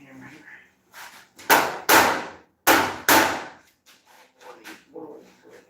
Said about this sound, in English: Shot peen hammer here.